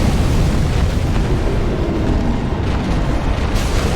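A boss's fire breath attack in Dark Souls 3 roars as a loud, continuous, rumbling blast that fills the whole stretch without a break.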